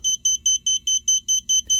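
Repeated alarm beeping from a BOAN Catch One Pro 2 hidden camera detector: nine evenly spaced, bright electronic beeps about a quarter second apart, loud and close, with no voices.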